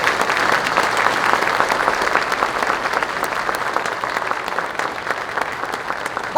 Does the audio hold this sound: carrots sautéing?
no